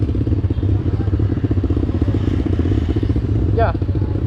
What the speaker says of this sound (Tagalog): Pumuputok yung motor ko.